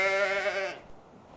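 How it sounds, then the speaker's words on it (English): A single snow sheep call blown in a Siberian hunting video game: a loud, harmonic bleat lasting under a second, then quiet ambience. "let me try snow sheep call too"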